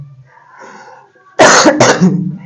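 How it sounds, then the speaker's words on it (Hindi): A faint murmur, then two sharp, loud coughs in quick succession, close by. "खांसी जो है वह तंग किया हुआ है"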